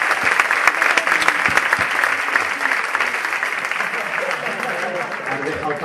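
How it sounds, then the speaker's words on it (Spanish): A live comedy and mentalism show audience applauds two performers, dense continuous clapping with cheers and voices running throughout at steady loudness. "¡Un aplauso para ambos!"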